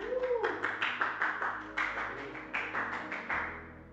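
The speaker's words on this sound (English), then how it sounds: "Somebody clap your hands and give God a praise." A church congregation claps hands in a steady, moderately loud rhythm of repeated claps, with a voice audible briefly at the start.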